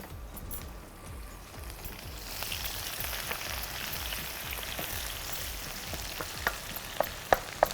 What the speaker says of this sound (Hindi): यहाँ पर आपने गरम तेल में अनियन को फ्राई होने के लिए शामिल कर दिया